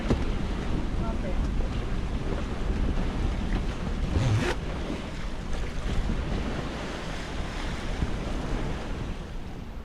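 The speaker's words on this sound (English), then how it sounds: "It's just choppy little waves, which make things really uncomfortable." Choppy little ocean waves slap around a boat at sea off Guatemala, a steady rough wash of water with wind buffeting the microphone throughout.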